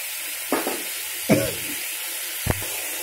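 Spice paste fries in oil in a pan, a faint steady sizzle broken by three short bursts of stirring scrapes and spatter, close and without speech.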